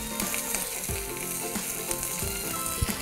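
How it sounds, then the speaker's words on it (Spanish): Iberian pork pluma cooking in its own rendered fat in a frying pan, a steady dense sizzle and crackle with occasional louder pops, close and continuous throughout. "Con su propia grasa se tiene que ir cocinando"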